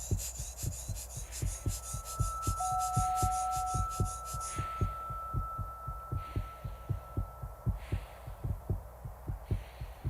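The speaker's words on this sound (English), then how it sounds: "My heartbeat and blood pressure are still close to normal." A human heartbeat at high altitude on Everest, a steady series of close, loud thumps at a regular pace running throughout, with faint rubbing and a thin high tone early on.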